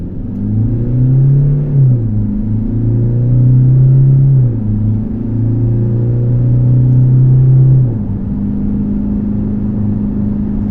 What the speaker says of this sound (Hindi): अब हम इस गाड़ी का 0 to 100 चेक करके आपको बताते हैं।